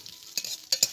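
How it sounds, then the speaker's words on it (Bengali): Cashews, raisins and almonds frying in ghee give a soft, steady high sizzle close by, broken by a few short stirring scrapes, with no talking. "এখানে আমি কাজু কিশমিশ আর কাঠবাদাম নিয়েছি, এগুলোকে একটু ঘিয়ে ভেজে নেব।"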